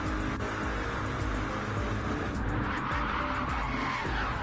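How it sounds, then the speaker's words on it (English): In a NASCAR GT racing video game, a race car slides and skids into the wall, tires squealing over a steady loud engine roar that runs throughout without pause. "Scott Sandover is having a major slide and he's into the wall"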